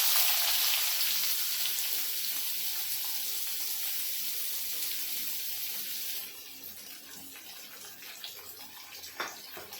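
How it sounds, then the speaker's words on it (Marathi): Onion tipped into hot oil seasoned with asafoetida for a spicy chili vegetable dish; a loud, even hiss of sizzling fades slightly, then drops quieter after about six seconds, with a few faint clicks and no speech. "आता आपण कांदा टाकणार आहोत"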